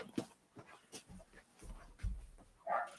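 A little Shih Tzu and a pit bull react to someone at the door with faint scattered yips, whimpers and panting at a distance, broken by a few louder bumps and one brief sharper cry near the end.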